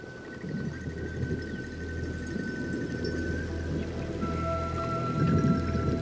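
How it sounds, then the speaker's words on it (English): Steady rain patters and crackles on surfaces in the Pantanal marshes, with a faint tonal hum running through it and low rumbling underneath. "As in the Amazonia, rain is good for the Pantanal."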